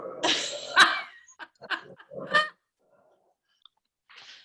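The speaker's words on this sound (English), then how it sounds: "had the dogs bothering me, so I shut the door to my kitchen" Dogs barking inside a house, several sharp, close barks in a quick burst followed by quiet and one softer yelp at the end.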